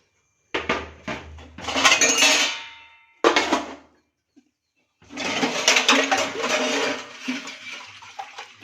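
Metal kitchen pots and vessels clatter and clank in bursts as they are handled and set down, with a run of rattling near the start, a short sharp knock, and a longer stretch of scraping and clinking.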